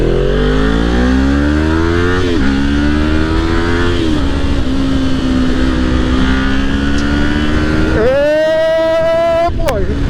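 A Kawasaki Ninja motorcycle ridden at speed, its engine droning loud and close under strong wind noise, rising through gears before a sharp high rev near the end, with a rider's voice over it.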